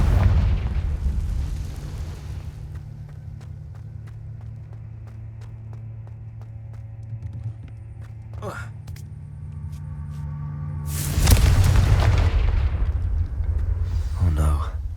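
Confringo fire spell in the Hogwarts Legacy video game bursting into a heavy boom at the start, a quieter stretch with ringing tones and a short crackle, then a second loud explosive blast near the end.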